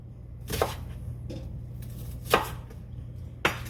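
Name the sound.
knife dicing white onion on cutting board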